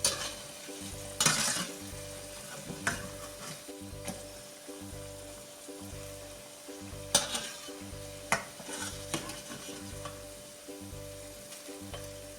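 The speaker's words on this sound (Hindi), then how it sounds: "और ये करने के बाद अब मैं थोड़े से बड़े साइज़ के पकौड़े तैयार करूँगी।" Larger onion and potato pakoras frying in hot oil, a constant bubbling sizzle with repeated stirring scrapes and occasional sharper clinks of the utensil against the pan, close and without talk.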